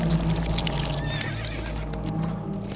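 A horse whinnies and snorts in the video game Shadow of the Colossus, loud and close over a steady low rumble of game ambience.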